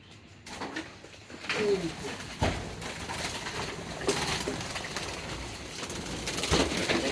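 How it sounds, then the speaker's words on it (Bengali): Birds coo and flap about in a steady, busy flurry, with wingbeats and rustling throughout and occasional louder bursts of movement. "দেখতেই পাচ্ছেন পাখিগুলো কেমন ছোটাছুটি করতেছে"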